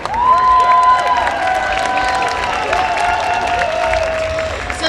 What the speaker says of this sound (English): One more big round of applause for our amazing 2024 court.